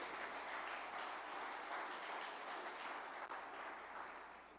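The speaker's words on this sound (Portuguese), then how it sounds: "Você pode aplaudir ao Senhor por isso." Church congregation applauding during a sermon, a soft, distant patter of clapping held at low level, ending with a sudden sharp sound.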